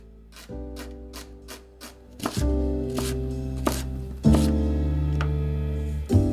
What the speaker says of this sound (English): I cut it in half and then cut that half into quarters before I just slice it as finely as I can